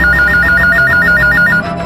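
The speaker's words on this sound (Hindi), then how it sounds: "पुलिस हेडक्वार्टर्स में डायल 100 पर एक फोन कॉल आया था" A telephone rings loud and close at a police control room in a Crime Patrol drama, a rapid warbling electronic trill that repeats evenly, then cuts off just before the end.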